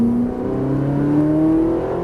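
Car engine revving steadily under acceleration on a cone-marked driving course, a continuous near engine drone with rising pitch and no speech over it.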